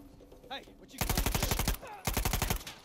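Automatic gunfire in the game Uncharted 4 rattles out in two loud, rapid bursts, each about a second long and close up, after a moment of quieter background sound.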